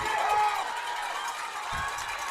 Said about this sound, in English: I'm sticking my head out the window so you can hear the crowd